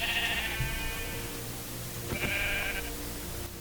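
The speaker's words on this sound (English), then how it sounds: "I summon a sheep right here" A sheep in the video game Minecraft bleats twice, a wavering call near the start and a second one a couple of seconds later, fairly close and clear over a steady background hum.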